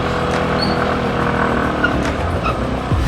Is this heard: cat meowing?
no